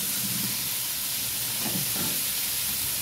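Chayote (sayote) briefly sautéed in a pan for mussel tinola, giving a steady, soft hiss of frying that holds evenly throughout with a few faint stirring scrapes and no talking.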